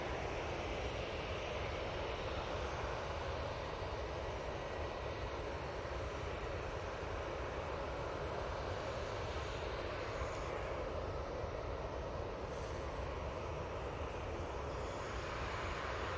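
A Jet2 airliner departing Manchester Airport bound for Antalya, heard as a continuous, fairly distant engine rumble that stays even from start to finish with no talking over it.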